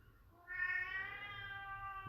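A domestic cat lets out one long, drawn-out meow that starts half a second in and holds steady for about a second and a half, fairly close and clear over a low background hum.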